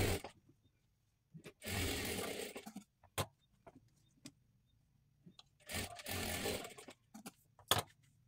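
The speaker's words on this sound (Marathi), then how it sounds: "डबल शिलाई मारून घ्या आणि दाबटीप टाकून घ्यायची आहे" A domestic sewing machine runs double stitching along joined strips of blouse fabric, in two long whirring bursts with short stitch-length taps between them, at close range and moderately loud, with no talk.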